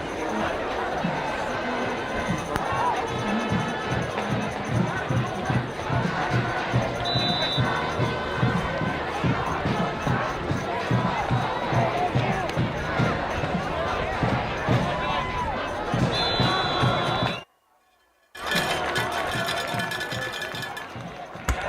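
Dense, steady roar of a large crowd at a high school varsity football homecoming game, continuous and loud for most of the stretch, briefly cutting out near the end before resuming.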